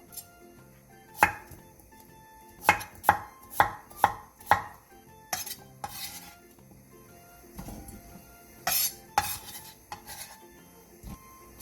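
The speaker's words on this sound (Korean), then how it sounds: "당근 2분의 1개도 감자와 비슷한 크기로 큼직하게 잘라주세요." A knife chops half a carrot into large chunks on a cutting board, a series of sharp, close thunks in an uneven rhythm, with softer board and utensil clatter between cuts.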